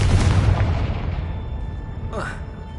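Confringo blasting spell in the Hogwarts Legacy video game: a loud, booming explosion right at the start whose rumble decays over a couple of seconds, followed by a brief whooshing magical flourish.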